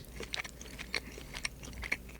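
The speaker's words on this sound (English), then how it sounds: "I'm still chewing it." Chewing on shredded beef in barbecue sauce, close and quiet, with soft irregular bites and wet mouth sounds over about two seconds, no talking.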